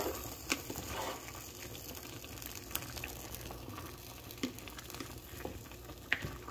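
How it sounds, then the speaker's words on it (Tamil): Coconut milk goes into a simmering Jaffna-style green tomato curry made with home-grown green tomatoes, giving a soft, steady sizzle and bubbling with faint liquid patter and a few light clinks, close and quiet with no talk. "இந்த தருணத்தில் பாலை விடுவோம், முற்பாலை விட்டு திறக்குவோம்."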